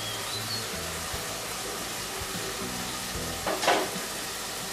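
Ground spices (turmeric, red chilli, cumin, coriander) frying with onion paste in a pan for raw banana curry, a steady close sizzle with a brief stirring scrape near the end.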